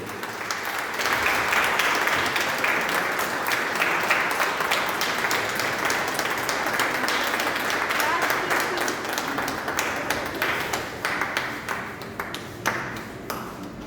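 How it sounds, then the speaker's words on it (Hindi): Loud, sustained applause from the audience at a Hindi Diwas 2024 literary event and story-collection launch, dense clapping holding steady for about fourteen seconds before thinning slightly toward the end. "एक बार जोरदार तालियां बजाइए"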